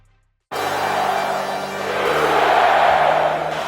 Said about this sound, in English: Crowd as loud as it's been tonight.